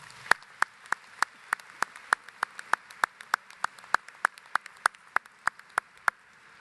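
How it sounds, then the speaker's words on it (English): Applause for staff at an annual meeting comes as crisp, regular claps, roughly three to four per second, steady and fairly close over a quiet hall, with no speech. "Let's give them a round of applause."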